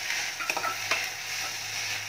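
Thuthuvalai greens sautéing in sesame oil in a pan, a steady soft sizzle with a couple of sharp stirring scrapes near the middle, close and continuous with no talking.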